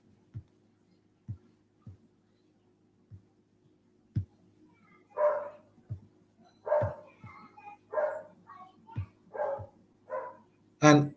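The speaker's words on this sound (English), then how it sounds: "you will hear dogs barking" In a Caribbean setting, dogs bark from a distance in a loose run of separate woofs and yips, each standing apart from the last, while dull thumps are heard early on and the loudest bark falls at the end.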